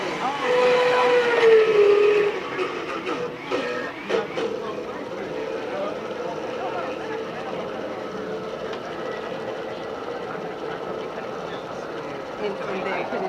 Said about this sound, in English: So we're going to actually blend this.